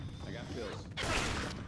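Weapon reload in the video game Left 4 Dead 2: mechanical clicks and a ratcheting slide, followed by a louder metallic clack and rushing noise, heard close under a steady background of game sound.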